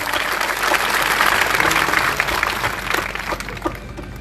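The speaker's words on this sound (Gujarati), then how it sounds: "એકવાર મારી દાતા ઠાકોર સેનાને એકવાર જોરથી તાળીઓથી અપાવો" Dense, steady applause from a large crowd at a Thakor Sena gathering, continuous and fairly loud throughout with a slight taper toward the end.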